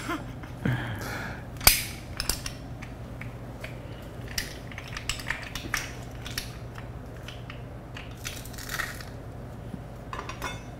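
A silver garlic press crushes garlic with soft, scattered metallic clicks and squeezes, one sharper clack near the start, quiet and close amid light kitchen clatter.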